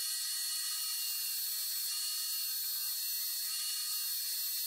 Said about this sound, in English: use sandpaper to shape a few of the corks into snowman shapes.